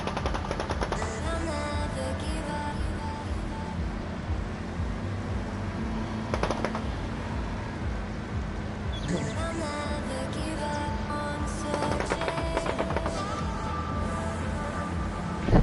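A Hyperfire gun in a video game fires balls in a rapid, steady, continuous stream that makes a dense rattling patter, with a few louder bursts and a constant hum underneath.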